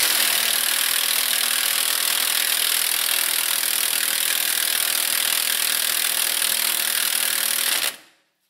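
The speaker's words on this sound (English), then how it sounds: "as the rusted part of the end of the bolt goes through there" A wrench turns a rusted bolt loose during a front wheel bearing replacement on a Volvo XC90, giving a steady, loud, grating scrape that runs unbroken for about eight seconds and then cuts off abruptly.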